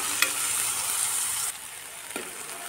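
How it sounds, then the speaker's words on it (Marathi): Tomatoes sauté in a hot pan for a soya chunks tiffin curry, a loud continuous hissing sizzle that drops slightly in intensity halfway, with a brief scrape of a spatula near the end. "आता यामध्ये मी टोमॅटो टाकते। टोमॅटो सुद्धा 2 ते 3 मिनिटं परतून घ्यायचा आहे।"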